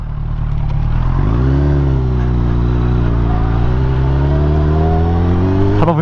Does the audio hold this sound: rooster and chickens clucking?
no